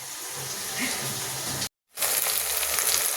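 Onions fry in a pan for a chicken gravy, giving a continuous hissing sizzle that drops out briefly and then resumes at the same level.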